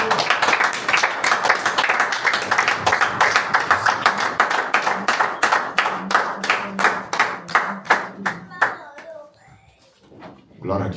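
A church congregation clapping in fast, rhythmic unison, growing more scattered toward the end, with voices calling out beneath the applause.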